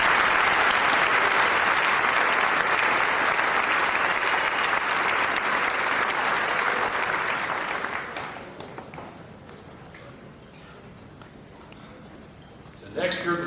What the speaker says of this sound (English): Let's have a round of applause for these students.